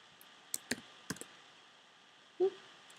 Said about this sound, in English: Keep clicking the wrong buttons, guys.